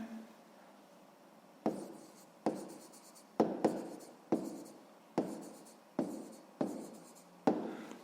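A pen scratches out a math solution on paper in a regular series of short strokes, each starting with a sharp tap and trailing off, about eight in a row, close and fairly quiet.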